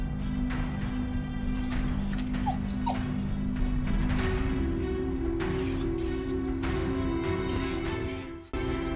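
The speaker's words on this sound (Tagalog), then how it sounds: "Sheila, yung mga aso mo" Dogs whine and whimper in short high-pitched bursts over a steady low hum, repeating through most of the stretch.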